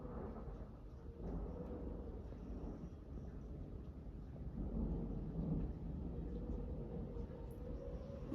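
Thunderstorm with wind during a tornado watch, a deep continuous rumble and roar that swells in the middle and stays heavy, with rain hiss underneath.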